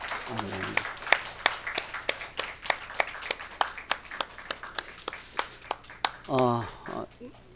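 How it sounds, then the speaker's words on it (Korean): A church congregation claps in a steady rhythmic beat for several seconds at a New Year's Eve service, with a voice speaking briefly at the start and again near the end. "하나님께 영광의 박수를 한번 올려드리겠습니다"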